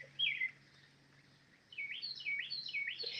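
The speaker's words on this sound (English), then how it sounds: "I have a lot of birds in the garden right now." Birds sing in a garden: a brief chirp early on, then after a quiet gap a run of repeated, rising and falling whistled notes, fairly faint and distant over a low background hum.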